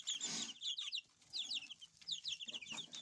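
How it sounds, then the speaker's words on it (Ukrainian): Ordinary mixed-breed chicks and young chickens cluck and peep in quick, high chirps, coming in scattered bursts close by for a few seconds with no one speaking. "Це самі звичайні курчата своїх курей"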